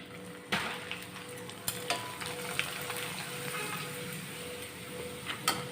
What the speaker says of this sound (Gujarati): હું તમને બીજો પાપડ પણ તળીને બતાવીશ